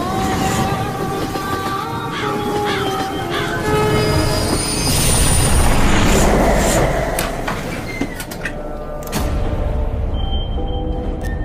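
Passenger train rolling through a series of tunnels on the way to a resort, with loud, steady rumbling and clatter, squealing wheel tones and a brief horn-like tone amid continuous roar, no talking.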